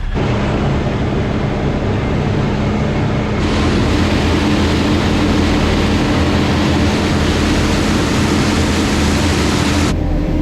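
A loud, steady mechanical roar of a forage harvester chopping earlage runs without pause, droning and broadband, as if heard from inside the cab.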